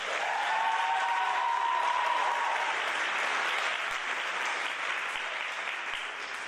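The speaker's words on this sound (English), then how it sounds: "he deserves a round of applause" Steady applause from an audience at a Linden Board of Education meeting, filling the room evenly for several seconds and tapering slightly toward the end, with no talk over it.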